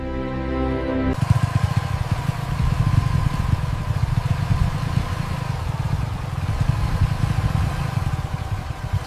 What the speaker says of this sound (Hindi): एक बाइक आ रही है।